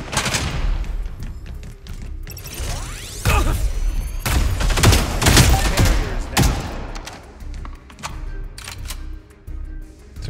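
Repeated shotgun blasts from a new first-person shooter game, loud and closely spaced amid a dense, chaotic mix of booms and clatter that runs through the whole stretch, with no clear pauses.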